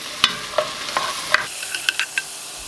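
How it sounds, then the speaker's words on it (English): Onion, jalapenos and garlic stirred and sautéed in a hot pot for tortilla soup, a close, loud sizzle punctuated by repeated scraping clacks of the spoon at an uneven rhythm, with no voices. "add your onion, your jalapenos, and most of your garlic. You don't have to use it all if you don't want to. And we're going to stir it in, and we're going to saute it"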